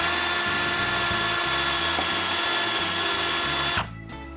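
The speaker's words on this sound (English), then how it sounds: "I hit the bolts on the wood to make marks, which I use to guide the drill bit" A power drill whines loudly and continuously at a steady pitch as it bores into a wooden window frame at a cottage, then cuts off abruptly near the end as the motor winds down.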